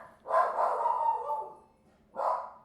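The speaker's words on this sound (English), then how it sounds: "Sorry about the dog. She's decided to let everyone know what is going on." An indoor dog, a female, barks close and loud in a drawn-out whining bark, pauses, then gives one more short bark.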